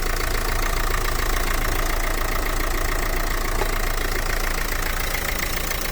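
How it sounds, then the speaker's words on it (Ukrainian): A 2012 Renault Megane III with a 1.5 dCi diesel engine idles with the hood open. The idle is a steady, even, close-up rumble and clatter with no voices over it. "Двигун працює рівненько."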